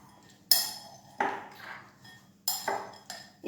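Quick mixing of ginger, cinnamon and other spices in a bowl, with several sharp clinks and scrapes of a utensil against the bowl at irregular intervals, close and moderately loud.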